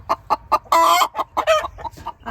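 Hens clucking inside a chicken coop, a quick series of short, close clucks with a couple of louder, drawn-out squawks mixed in, with no talking.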